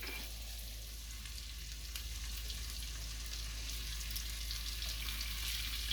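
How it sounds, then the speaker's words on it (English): Butter melting with minced fresh garlic in a pan gives a steady, even sizzle throughout, close and moderately loud, with no voices. "As that's melting, we're going to add in 1 tablespoon of minced fresh garlic."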